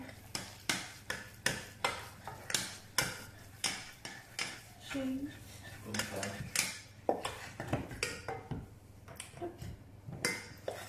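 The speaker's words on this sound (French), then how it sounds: "On enlève du feu, on met à côté et on remue." Choux dough with flour is beaten in a pan off the heat for chouquettes, a spoon knocking against the pan in a steady rhythm of sharp, close clacks, with a person talking partway through.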